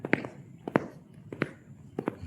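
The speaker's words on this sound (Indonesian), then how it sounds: "Suara langkah kaki kedengeran nggak?" Footsteps walk outdoors in the BSD area, with about six or seven crisp, fairly close steps in an uneven rhythm against quiet surroundings.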